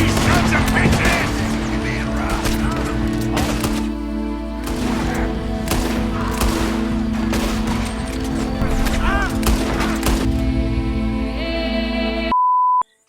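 A chaotic Red Dead Redemption 2 firefight with rapid, repeated gunshots from many directions over steady tonal game music. The volleys stay loud and dense before cutting off abruptly at the end with a short beep.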